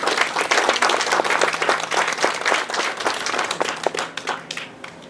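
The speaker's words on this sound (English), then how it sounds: "let's give Gary a round of applause." Crowd at an outdoor anniversary celebration and groundbreaking gives a loud, sustained round of applause, thick continuous clapping that softens near the end.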